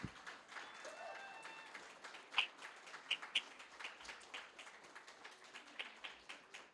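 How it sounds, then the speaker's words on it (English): A seated crowd at a community radio station's 20th anniversary celebration applauds standing volunteers with a steady patter of many hands clapping, fairly distant and soft, with a few louder claps near the microphone. "Can the people that are sitting down please clap for the people that are standing up?"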